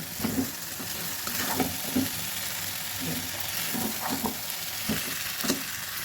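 Noodles with vegetables and melted tomato stir-fried in a pan, a steady sizzle and crackle with repeated scraping strokes of a spatula every second or so, close by and fairly loud, no talking.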